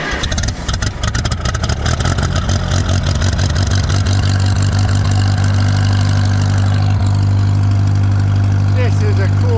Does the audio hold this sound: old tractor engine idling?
yes